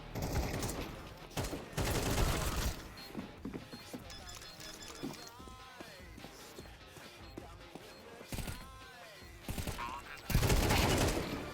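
Gunfire in the shooter game Counter-Strike, with bursts of rapid shots loud at the start and again near the end and quieter sporadic firing and game noise in between.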